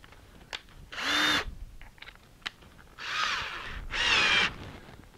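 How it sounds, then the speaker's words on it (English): A power drill with a step bit whines in three short bursts while drilling a hole in a plastic fermenter, with small knocks and clicks between them, close by. "Let me drill this hole."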